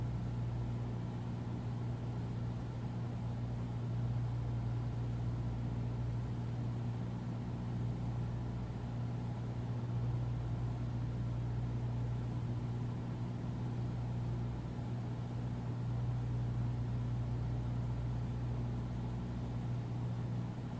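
In a flight simulator, a Cessna 172SP's piston engine runs throttled back to 1,800 RPM, a continuous steady drone with a strong low hum that stays constant throughout and has no talk over it.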